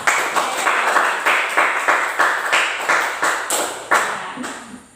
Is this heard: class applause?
yes